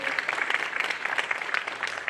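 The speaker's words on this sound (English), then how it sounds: "A round of applause for our actor." A brief burst of audience applause for an actor at a question-and-answer event about a video game, dense and fairly loud clapping from a crowd that continues without pause.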